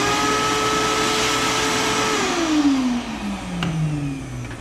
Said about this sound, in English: I've got my shop vac handy here so I can remove some chips.